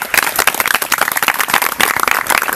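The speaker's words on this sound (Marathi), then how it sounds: "एकदा जोरदार टाळ्या उद्यात" Loud, dense applause from a college audience of teachers and students fills the whole stretch, steady clapping with no pauses.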